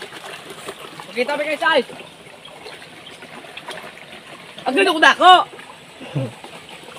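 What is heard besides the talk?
river water flowing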